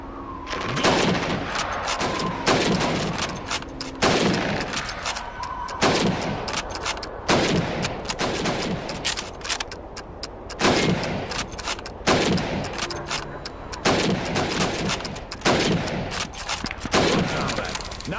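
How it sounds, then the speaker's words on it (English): Repeated rifle gunshots ring out in Call of Duty 2 as helmet targets are fired on, loud sharp cracks spaced every second or two across the whole stretch with a steady rumble of battle noise underneath. "You have 15 seconds to shoot the helmets."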